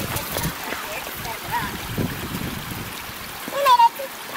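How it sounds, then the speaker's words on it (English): A raging mountain stream rushes past a log crossing on a hiking route toward Middle Sister, a steady broadband roar of flowing water heard close, with people talking over it. "crossing a log over a raging stream."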